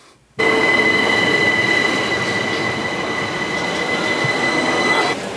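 A loud, steady roar of a train to London kicks in suddenly and continues, with rattling wheels on rails and a thin high-pitched squeal riding over the rumble.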